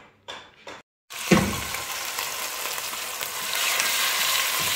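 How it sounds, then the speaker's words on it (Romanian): Oil sizzles and spits in a pot on a stove, a loud steady hiss that sets in after a brief clatter and silence, then holds evenly and close up with no talking. "am pus o cratiță pe foc cu un pic de ulei. Și bineînțeles, uleiul sărea"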